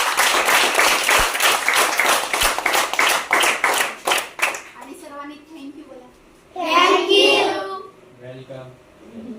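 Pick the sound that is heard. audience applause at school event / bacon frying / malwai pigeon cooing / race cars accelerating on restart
audience applause at school event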